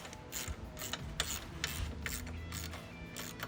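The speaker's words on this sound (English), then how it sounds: "And now he's just going to put a box end on it. Open end." An open-end wrench works a nut while an engine guard is installed on a Harley-Davidson Softail, producing a series of faint, quick metallic clicks and ratcheting taps spaced at irregular intervals, with no talking.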